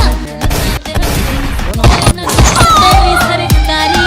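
Loud comic gunshot effects crack out in rapid, uneven bursts over about four seconds, each shot a sharp thump-like bang stacked over a busy musical background.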